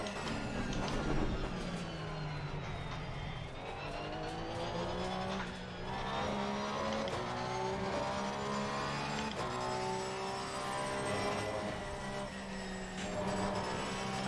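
A Porsche 911 race car in Assetto Corsa Competizione at the Nürburgring screams through the gears, engine pitch climbing and dropping with each shift, loud and continuous with brief tire squeal.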